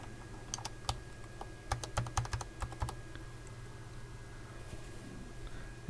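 Keycaps being snapped back onto a plug-in style computer keyboard during repair give sharp, scattered clicks in short bursts, close by over a steady low hum.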